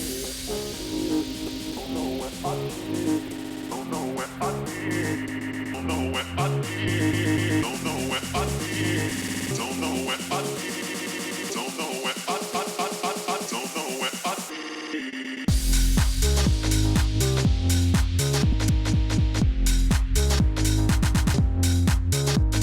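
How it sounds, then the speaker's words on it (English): Dance music plays from a Pioneer DDJ-200 DJ controller while a roll effects chain stutters and loops beats into rapid repeated fragments, then drops back into a full, heavier groove. "So what you heard there was an example of a roll effects chain."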